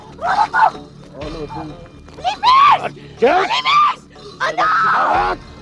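A woman screams in several sharp, strained bursts with brief pauses between, loud and close, mixed with frantic vocal strain.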